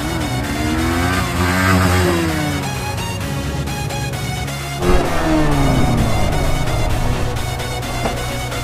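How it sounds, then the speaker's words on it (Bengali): Yamaha R15 V3 sport motorcycle ridden flat out on modified tyres: a steady high-pitched engine whine with strong wind rush, pitch dipping and rising around a gear change, close and continuous with no talk. "আমি এখন ফুল স্পিডে বাইকটা টানছি।"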